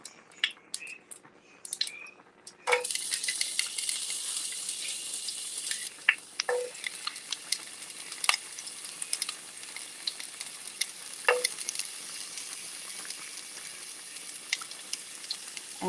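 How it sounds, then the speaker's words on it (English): Green peppers dropped into a hot frying pan for shrimp pasta set off a bright, steady sizzle that holds for many seconds, with scattered scraping and tapping knocks of a utensil, close and moderately loud. "Okay, so we're gonna put in our green peppers."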